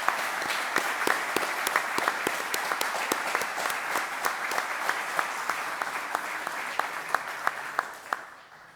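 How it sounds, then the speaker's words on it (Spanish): An audience at a book presentation applauds, dense clapping that holds steadily for about eight seconds before tapering off at the end. "Así que yo pediría un aplauso para Gonzalo"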